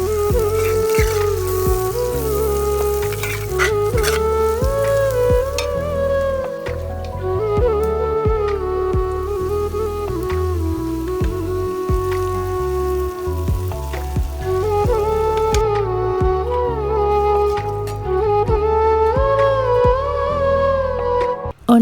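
Tempering for Sri Lankan lentil curry frying in a pan makes a loud, continuous sizzle and crackle with scattered pops, close up and steady throughout, with no talk.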